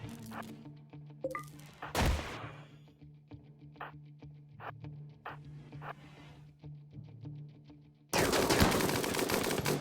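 Turret gunfire from the RimWorld video game, with scattered sharp shots and short bursts, then a dense, loud sustained barrage near the end.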